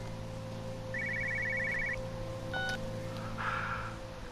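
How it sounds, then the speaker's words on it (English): A telephone rings inside the game Everybody's Gone to the Rapture: a short, rapid trilling burst of electronic ring tones over a steady low hum, with a few brief chirps afterward. "That's a phone."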